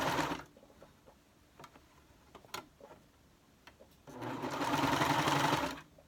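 A sewing machine runs a stretch stitch on a pocket, with a short whirring burst at the start, then scattered clicks and taps, then a longer steady run of stitching near the end.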